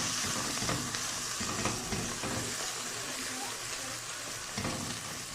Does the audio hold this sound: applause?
no